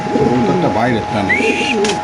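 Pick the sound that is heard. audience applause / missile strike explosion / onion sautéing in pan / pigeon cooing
pigeon cooing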